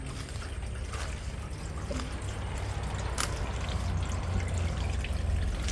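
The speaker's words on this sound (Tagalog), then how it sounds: "Che-check po natin yung ginawa nilang water pump." Water pouring and trickling steadily from a homemade DIY water pump beside a rural well, a continuous close splashing flow that holds an even level throughout without talk.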